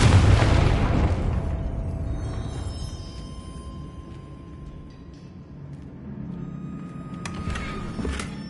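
Confringo fire spell exploding in Hogwarts Legacy: a loud, sharp blast at the start, then a long rumbling decay fading over several seconds, with a couple of small pops and crackles near the end.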